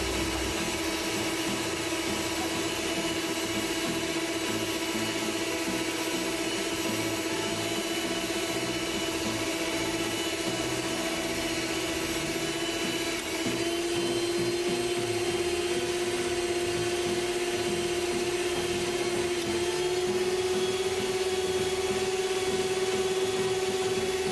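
A red RCA RC-799 stand mixer kneads dough with a continuous motor drone and whine, close and steady for the whole stretch, its pitch rising slightly partway through as the load shifts, with no talking.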